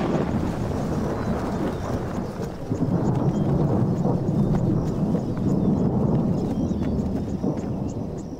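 A thunderstorm in the long rainy season in Tanzania's Selous, with a steady roar of rain and wind and low rumbles of thunder rolling underneath, with no talk.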